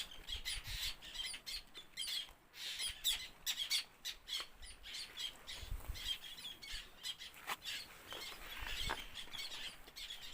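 A seabird colony on a rock in the middle of the sea, with dense, overlapping squawks and harsh calls from many birds, loud and continuous near at hand, and no speech.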